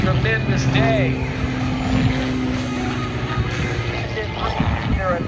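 An Edge 540 aerobatic plane makes its final low pass at an airshow at Hammond Northshore Regional Airport, its propeller drone sustained and moderately loud under an announcer's continuous commentary.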